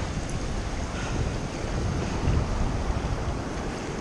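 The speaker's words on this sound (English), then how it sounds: "Waves coming." Ocean waves wash around a small fishing boat in a steady, loud rush mixed with gusting wind on the microphone.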